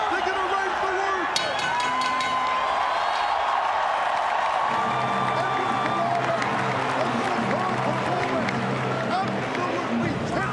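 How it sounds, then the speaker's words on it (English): An arena crowd at an MMA fight roars and applauds steadily through the closing seconds of a bout, a dense wash of cheering that swells in the second half, with a commentator talking over it. "This crowd sets a victory for Eduard Folayang"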